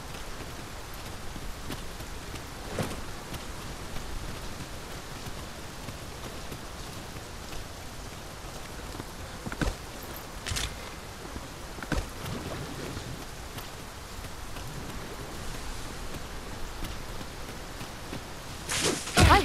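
Steady rain patters continuously at moderate volume in the video game Dragon's Dogma II, with a few sharper drops and splashes standing out now and then, and no voices.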